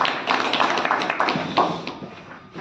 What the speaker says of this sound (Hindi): जोरदार तालियों से स्वागत करें आदरणीय आशीष घोष जी